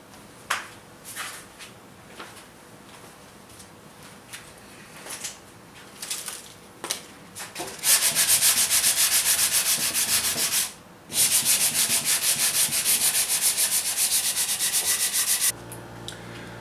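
Hand plane shaving wooden parts for an Arts and Crafts style bookcase, a few scattered knocks and strokes first, then long continuous loud rasping passes near the listener, broken by a short pause.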